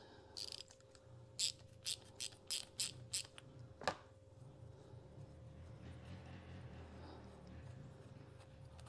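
A wrench works the nut under the carburetor bowl of a Troy-Bilt mower, a run of quick ratcheting clicks followed by a sharp metallic snap, then quiet, close and soft without talk.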